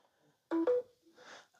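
A Galaxy Note 20 Ultra in a case, set on a Dekala Arches ambient lamp's wireless charger, gives two short clean beep tones in quick succession, followed by a fainter brief tone.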